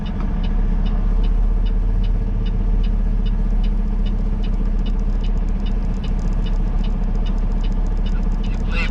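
Heavy haul truck engine pulling off the clutch, a loud, steady low diesel drone with rhythmic rumble and cab rattle throughout, no talk over it.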